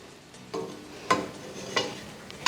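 Pasta with tomato paste stirred in a pot, giving a few scraping, clattering strokes spaced about half a second apart over a faint background sizzle, close and fairly quiet.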